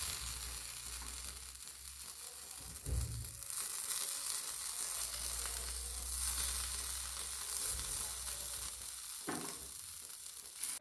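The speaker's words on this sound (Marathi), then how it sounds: "तव्यावरती भाजून घ्यायचे" Pav bread roasting on a hot tawa griddle sizzles steadily and softly, with occasional low thumps and scrapes as it is pressed or turned, and no voices.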